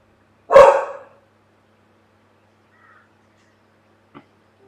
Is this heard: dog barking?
yes